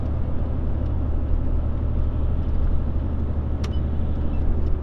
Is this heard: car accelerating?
yes